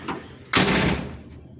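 A 1977 Toyota FJ40 door shuts with one solid close thud, then a short fading rattle, near and alone with no talk.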